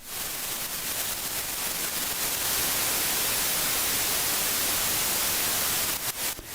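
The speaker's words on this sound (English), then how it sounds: "as soon as I stop speaking, white noise will be played at its full peak level." Steady white noise plays at full level, a loud, dense hiss that fills the clip without break before dipping and flickering briefly near the end.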